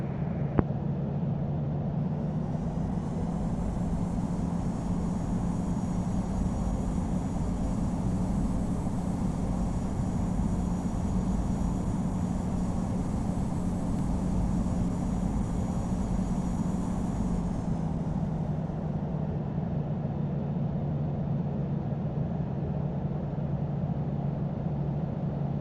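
Airliner in the Infinite Flight simulator taxiing toward the runway at Frankfurt, a steady loud engine drone that swells with a rising whine, holds, then eases back toward the end.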